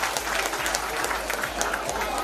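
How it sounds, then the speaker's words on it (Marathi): Enthusiastic applause from a crowd of women honouring a second-prize winner at a Paithani home-minister contest, loud dense clapping held steady throughout. "मानाचं 2रं बक्षीस प्रज्ञा सुतार वहिनीसाठी जरा जोरदार टाळ्या पाहिजे"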